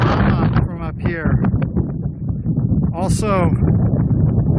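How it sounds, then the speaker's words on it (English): Strong wind buffets the microphone in a steady, rough roar at a hilltop viewpoint in the Dishman Hills Natural Area near Spokane, while someone talks over it throughout. "Also very, very windy."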